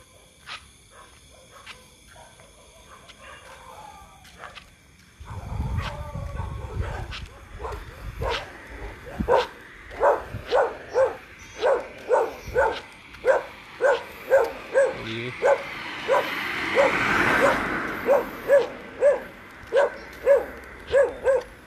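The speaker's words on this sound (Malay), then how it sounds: "dia anjing" A dog barks repeatedly near a food shop by Sungai Bakap in a long regular series of sharp barks, with distant background noise and faint voices earlier.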